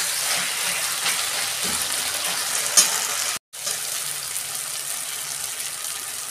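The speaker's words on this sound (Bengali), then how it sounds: "এবার ভালো করে মশলাটা কষাবো।" Tomato and spiced masala sautéing in a pan for a lote fish curry, giving a steady, even sizzle with soft stirring scrapes throughout and one brief dropout near the middle.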